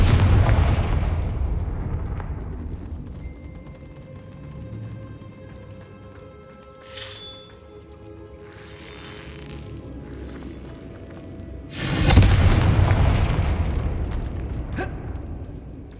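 The Confringo explosive spell cast in the Hogwarts Legacy video game: a deep rumbling boom midway, then a louder, sharper blast later, both over a low continuous rumble with no speech.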